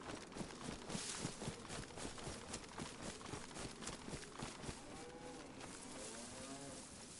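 A cow moos in the DayZ survival video game, with a steady, close lowing call heard over dense in-game ambience and occasional soft thumps.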